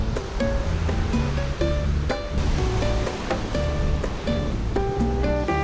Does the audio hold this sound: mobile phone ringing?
no